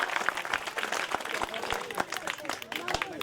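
Audience clapping at a cricket tournament prize ceremony: a steady patter of many hands close by, running under someone talking loudly over it.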